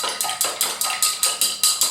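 Ice in a glass being stirred for an Old Fashioned cocktail, with eight crisp, evenly spaced clinks in a steady quick rhythm, close and fairly loud with no talk.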